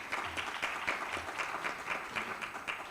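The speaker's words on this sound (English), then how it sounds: "je voudrais aussi que vous l'applaudissiez comme vous avez applaudi d'autres aussi" An audience at a regional conference on special economic zones applauds, a steady wash of many hands clapping at moderate distance, with no voices over it.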